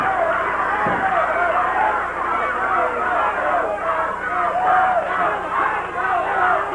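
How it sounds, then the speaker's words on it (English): A wrestling crowd at a 1981 Memphis match cheers and shouts in a steady, loud wash of voices, with a commentator talking over the din. "Crowd cheering for Dutch Mantell."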